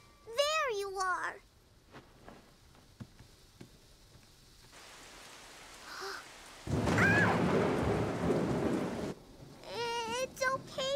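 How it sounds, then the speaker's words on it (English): A thunderstorm in a children's cartoon, with a sustained burst of heavy rain and rumbling thunder in the middle, framed by bursts of animated voices and a cat-like cry before and after. "It's just a bad storm."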